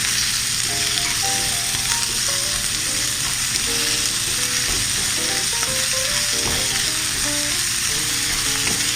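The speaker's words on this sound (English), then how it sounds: "So I want to make these, sweat these and stir fry them for a minute or two." Ginger and scallions stir-frying in a hot pan for a Chinese oyster casserole, a loud, dense and constant sizzle with rattling metallic tool scrapes and clatter woven through, close and unbroken.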